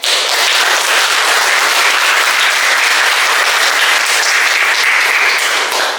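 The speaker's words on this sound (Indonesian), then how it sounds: "mari kita berikan tepuk tangan yang meriah" Loud, sustained applause from a primary school audience before a student group presentation, dense clapping filling the whole stretch without pause.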